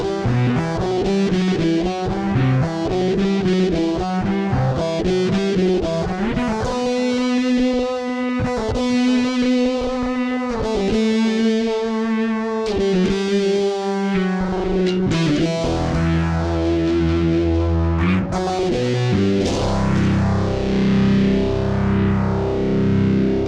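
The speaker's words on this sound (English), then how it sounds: "I incorporated a few of these in a pedal board that I created that sounds great for some kind of classic prog rock sounds" Electric bass played through a Fender Tone Master Pro pedal board set up for classic prog rock tones, with a distorted, chorus-washed sound and sustained melodic notes and chords changing throughout, loud and unaccompanied by voice.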